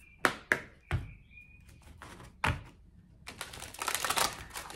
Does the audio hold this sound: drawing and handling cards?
yes